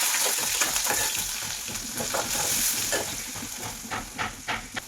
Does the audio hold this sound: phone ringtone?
no